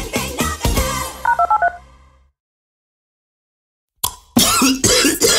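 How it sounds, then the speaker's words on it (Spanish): A person coughs several times in a cold medicine commercial; phone keypad beeps follow, then a stretch of silence, then louder voices and sound resume. "¿Se te alivió la tos?"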